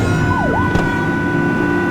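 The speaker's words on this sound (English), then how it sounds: "Get on their tail and flip the siren." Police car siren switched on in The Precinct video game: a single rising-and-falling wail sweeps briefly over a steady drone of engine and traffic noise, loud and close.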